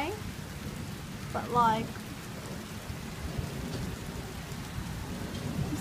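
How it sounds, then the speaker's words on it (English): Steady rain falling outside a taxi, a soft continuous hiss with a brief voice speaking over it early on. "It's raining again."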